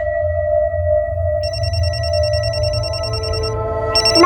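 A mobile phone rings loudly and steadily in a crime drama scene, playing an electronic tone pattern over a low background hum. Higher tones join in partway through, and nobody speaks.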